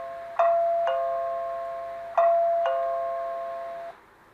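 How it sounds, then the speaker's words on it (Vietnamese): A CareCam security camera set up as a doorbell sounds its alert chime, two ding-dong pairs of bright tones, each pair ringing out and slowly decaying, clear and close with no talk. "Nó báo chuông cửa nè bạn ha."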